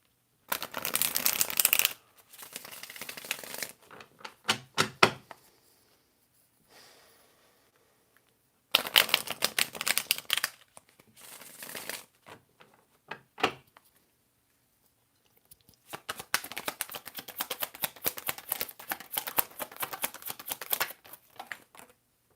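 Tarot cards are shuffled in quick, crisp bursts of riffling and flicking, close and fairly loud, broken by a few quiet pauses before the shuffling resumes; no talking.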